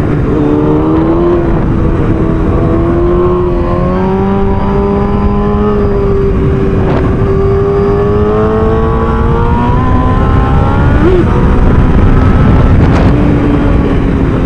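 Motorcycle engine pulling hard out of a curve, a steady loud drone whose pitch climbs and holds through the run, with constant wind rush and no voices.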